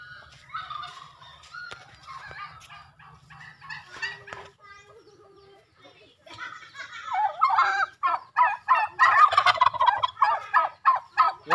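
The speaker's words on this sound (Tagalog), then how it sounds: "Yan yung mga pabo mga kaibigan" Flock of turkeys gobbling loudly and repeatedly at a fishpond, bursts of calls building into a dense, rhythmic chorus toward the end, with some faint human voice early on.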